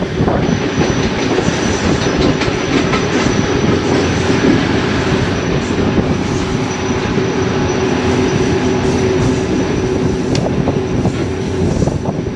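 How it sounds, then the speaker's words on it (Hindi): Passenger train 11 Up rumbles along the tracks in Sindh toward Nawabshah, a loud, steady roar of wheels and carriages heard from on board, with rhythmic clickety-clack and faint squeals throughout. "और नवाब शाह पहुँच रही है ट्रेन।"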